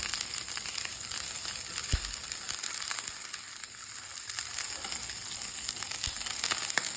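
Butter sizzling in a hot pan for a quesadilla, a steady crackling fizz that runs without pause, with a couple of soft knocks and no talk.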